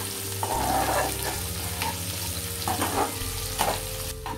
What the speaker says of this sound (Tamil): லைட்டாக வதக்குனதுக்கப்புறம் வேக வச்ச மட்டன் எடுத்து போட்டுக்கோங்க